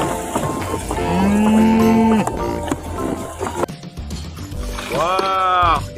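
A water buffalo moos twice, the first a long, low, steady call and the second a shorter one, close and loud. Other animal and toy noises clutter the background.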